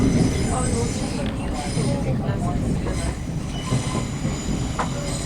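Passenger train running on rails, a steady loud rumble with faint wheel squeal and rattling throughout, heard from on board.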